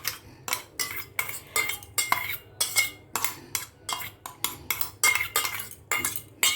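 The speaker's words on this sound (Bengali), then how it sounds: "ভাজা দুধের সরের মালাই দিলাম" Fried, blended milk-skin malai is mixed into a sweet bread dessert with a spoon, giving quick, regular scraping strokes against the dish, close and fairly loud, with no talking.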